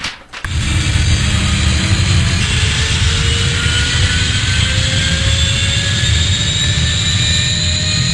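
Aircraft engine spun up and warming for takeoff on an airfield, a loud, steady roar with rising whining tones that holds without pause after a brief start.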